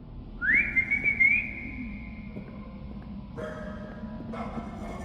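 A single sharp whistle calling a dog in the horror game Lost in Vivo, set in sewer tunnels, rising quickly then holding a steady pitch and fading, followed by faint tones and ambient game noise.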